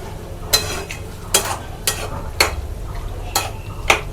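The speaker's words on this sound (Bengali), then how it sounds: "তো নাড়াচাড়া আমার কমপ্লিট" Pieces of mutton are stirred in a pot for kasha, giving six sharp scraping clacks at an even pace over a low sizzling bed, with no talk.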